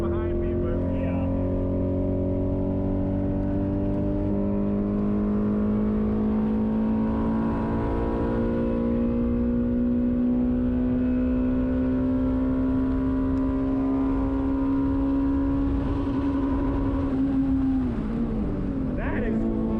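An Audi B5 S4 with a big turbo upgrade revs hard on a race track at Grattan Raceway, its engine tone climbing steadily for a long pull before a sudden drop near the end, heard loud from inside the car.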